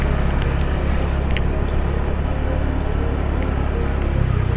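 Car driving along a street in the Nusa Dua area of Bali, heard from inside as a steady loud low rumble of engine and road noise that holds for the whole stretch, with no one talking.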